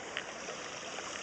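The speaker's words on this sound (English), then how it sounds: "But the waterfall's running, it's all nice and pretty, it's scenic down here" A pond waterfall runs in a continuous, even rush of falling water, close by and steady, with small splashes and trickles over the top and no voices.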